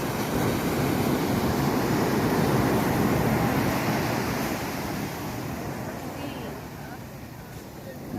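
Sea waves roll onto a long, wide, worn beach on a foggy morning. The surf roars in a broad, continuous wash that is loudest early on and slowly eases.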